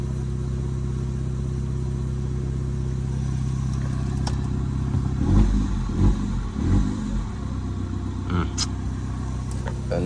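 An Audi A3 8P idles with a steady, low engine drone, a faint clatter and a brief swell in the middle, while someone talks over it.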